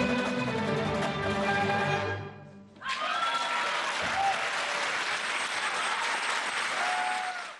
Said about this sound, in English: the Dombra players were met with a round of applause